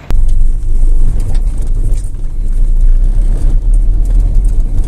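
A car with a damaged gearbox mount driven over bumps, giving a loud, steady low rumble of engine and road noise with continuous vibration throughout.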